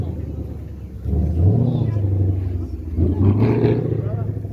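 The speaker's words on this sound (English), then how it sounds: "Mustang driving past." A Ford Mustang passes at a car show, its deep engine rumble swelling twice as it rolls by close and loud over a steady crowd murmur.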